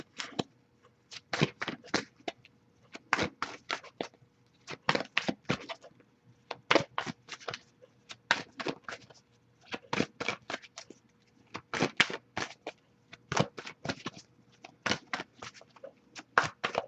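Oracle cards being shuffled in repeated quick bursts of riffling and snapping, close and crisp, with short pauses between each shuffle.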